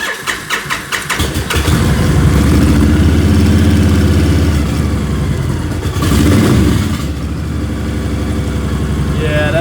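A vehicle engine cranks with a few quick stuttering turns, catches, and then runs at a steady loud idle-to-rev drone, swelling once briefly before settling, heard close up.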